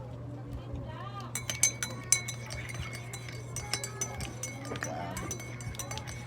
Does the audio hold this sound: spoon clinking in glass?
yes